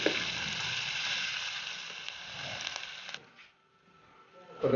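Ginger garlic paste frying with browning onions in a pan while preparing chicken biryani, a steady close sizzle for about three seconds, then a near-silent pause before a louder burst of sizzling returns.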